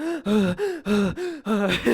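A voice imitates breathing from a song, a run of rhythmic, pitched gasping breaths, about six in quick succession, close and alone.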